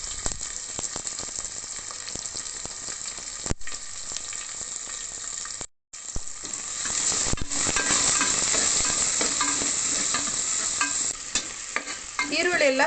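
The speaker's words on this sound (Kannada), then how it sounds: "ಈರುಳ್ಳಿ ಎಲ್ಲ ಚೆನ್ನಾಗಿ ಫ್ರೈ ಆಗಬೇಕು, ಬ್ರೌನ್ ಕಲರ್ ಬರಬೇಕು." Onions with curry leaves fry in a pan and are stirred until browned, a loud, close sizzle broken by repeated scraping strokes and one brief gap of silence.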